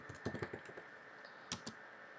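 Quick clusters of soft key clicks, a short burst of typing followed by a pause and two more taps, close and fairly quiet.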